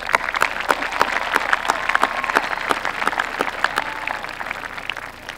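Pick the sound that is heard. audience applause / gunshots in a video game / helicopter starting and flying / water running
audience applause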